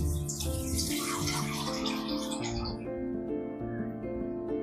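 Water pours into tomato paste in a pot for a quick village-style sambar with no lentils, giving a continuous splashing stream that dies down toward the end.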